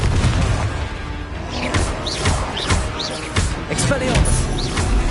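Fiery Confringo spell blasts go off in Hogwarts Legacy on PS5, loud booming bursts repeating through a busy duel with other spell effects, while a voice calls out spell names over the din.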